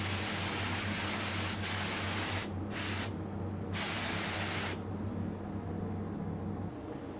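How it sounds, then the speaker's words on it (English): LVMP paint spray gun atomizing a thick epoxy industrial coating, a loud steady hissing spray in bursts that cut off briefly before a final long pass, with an airy background hum underneath. "We'll show you LVMP with this material now."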